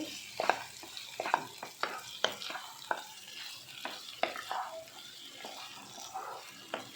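A spoon stirs prawns and boiled eggs frying in oil and masala in a pan, with repeated scraping strokes over a steady close sizzle and no talk.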